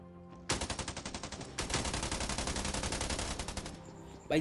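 Rapid automatic gunfire in the Scarfall 2.0 mobile game, two long bursts of evenly spaced shots, the second starting after a brief break and running for about two seconds, loud and crisp.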